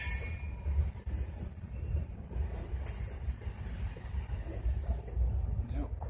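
Freight train passing on railway tracks behind a farm in Vermont, near the North Bennington station; a low, continuous rumble of rolling cars with faint wheel squeal, heard from trackside at moderate distance.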